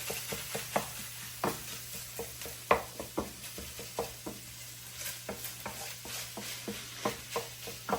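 Ground meat frying in a pan for taco spaghetti while being stirred, giving a steady close sizzle broken by repeated scraping stir strokes, with no talking.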